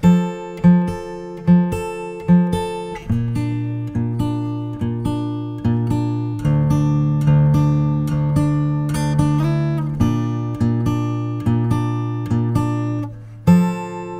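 A guitar plays a clean melodic intro to a song, plucked notes ringing out at a steady, moderate rhythm with sustained chords underneath, close and clear with no talking.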